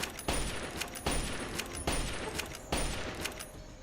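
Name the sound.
turret gunfire in the video game Fallout: A Tale of Two Wastelands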